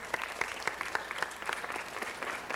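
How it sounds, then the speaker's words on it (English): An audience at a city council meeting claps for elementary school principal Pat Castro, a moderate wash of many hands with some sharper individual claps standing out at a fairly even rhythm, steady from start to finish. "Pat, let's give her a round of applause."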